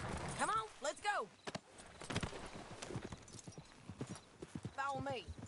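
Horse hooves clip-clopping at a steady riding pace in Red Dead Redemption 2, close and rhythmic, with a horse whinnying at the start and end and a voice speaking in between.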